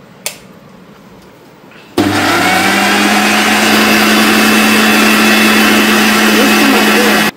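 A mixer grinder switches on abruptly about two seconds in and runs loud and steady, whirring as it grinds ingredients into a fine paste, after a quiet start with a faint click.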